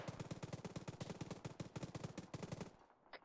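Rapid automatic gunfire in a video game rattles in a long sustained burst of evenly spaced loud shots, then cuts off into near silence.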